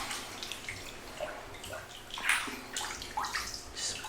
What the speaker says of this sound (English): Just putting water on my leg